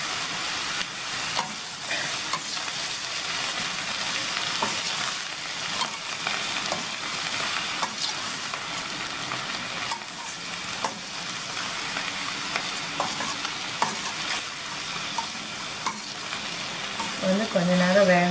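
Cabbage and moong dal frying in a pan for cabbage poriyal, giving a dense, continuous close sizzle and hiss that holds steady throughout, with no talking heard.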